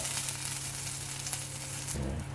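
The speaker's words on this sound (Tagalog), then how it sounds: "So, ngayon magsisimula na tayo mag-gisa." Oil sizzling steadily in a pan as sautéing starts for chicken caldereta, a close, even frying hiss, with a brief clatter of stirring near the end.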